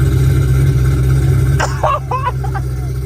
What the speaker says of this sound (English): This man had an exhaust system playing off his radio